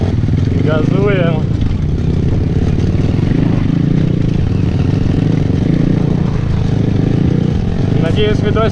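A motorcycle engine drones and revs on a grassy quarry trail, a steady loud rumble with clatter; someone speaks in Russian near the start and near the end.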